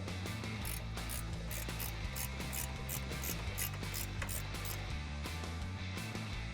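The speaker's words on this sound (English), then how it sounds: "we're gonna take our 18mm ratcheting wrench and just tighten it up" An 18mm ratcheting wrench tightens nuts on the front suspension of a 2014–2018 Chevy Silverado or GMC Sierra pickup, giving a rapid, continuous clicking of the pawl over a loud steady background hum.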